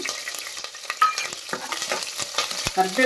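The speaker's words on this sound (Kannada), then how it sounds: "ಸ್ವಲ್ಪ ಜೀರಿಗೆ ಸಿಡಿದ ಮೇಲೆ ಹಸಿಮೆಣಸಿನ್ಕಾಯಿ ಹಾಕ್ಕೋತಾ ಇದ್ದೀನಿ" Green chillies drop into hot oil with spluttering cumin and mustard seeds, a steady close sizzle and frying crackle broken by scattered pops and stirring scrapes, with no talk.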